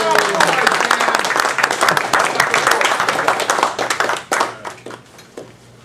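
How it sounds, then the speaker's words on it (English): An evening lecture audience claps for the speaker, dense applause at full strength that thins into scattered claps and fades out. "one round of applause for our speaker of the evening"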